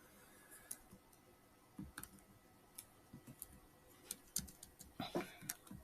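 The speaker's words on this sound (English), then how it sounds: "Now I'm going to type my name." Scattered soft clicks and taps of keys on a computer keyboard as a name is typed, sparse at first and quickening into a short burst near the end, faint and close with no talking.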